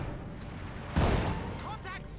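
An M8 Howitzer firing in Company of Heroes 2: a single sharp artillery blast under steady game background noise, with a few short whistling sounds after it.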